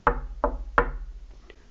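Three firm knocks on a wooden door, spaced evenly and close by, as a storytime sound effect, followed by a brief quiet pause with no voices.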